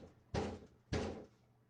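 Two heavy thuds bang on a door past midnight, spaced about half a second apart, each a loud blow with a short decaying rumble in an otherwise quiet room.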